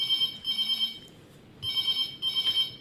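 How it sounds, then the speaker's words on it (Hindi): A telephone rings in two electronic bursts separated by a brief pause, clear and fairly close, with no talking. "देखो फोन की घंटी सोई बज रही"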